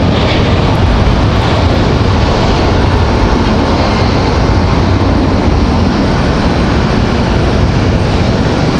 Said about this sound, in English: 737 gonna leave heavy here.